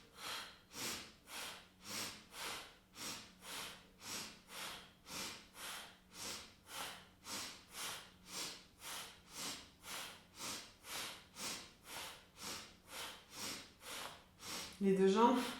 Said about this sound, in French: Comme tout à l'heure, ce sont des respirations super actives, Kapalabhati. À chaque expire, on vient serrer le ventre